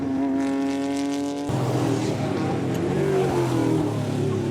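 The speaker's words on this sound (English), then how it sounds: "this is Ron Moller in this beautiful Libid car number 77" Libid race car number 77 roars at a club circuit race meeting, its engine note holding a high, steady whine before abruptly dropping into rougher, fluctuating revving as it passes, loud and close.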